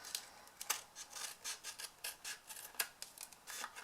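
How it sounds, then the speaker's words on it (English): Scissors cut through card stock for a triangle gift box in a quick, steady run of short snips and rasping strokes. The sound is close but quiet, with no talking. "now I'm cutting into the actual card itself"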